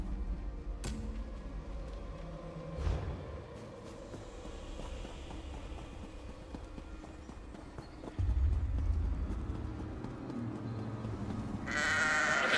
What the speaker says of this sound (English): Find the ghostly goats.